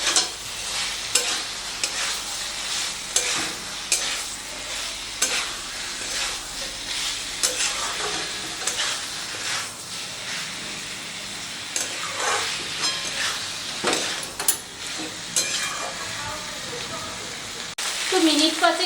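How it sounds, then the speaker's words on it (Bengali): Fried broccoli and fried potatoes are stir-fried with spices in a pan. A steady, dense sizzle runs throughout, with repeated scraping and clinking of a spatula close by. "তো সব কিছু দিয়ে মশলার সাথে খুব ভালো করে কষিয়ে নিতে হবে।"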